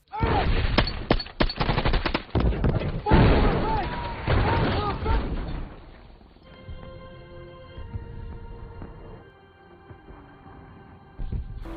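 Dense battle gunfire with rapid rifle and machine-gun bursts and heavy booms from a Vietnam War film, US 7th Cavalry troops facing a far larger Vietnamese force with artillery support; loud for six seconds, then fading to a quieter rumble with music and a voice over it.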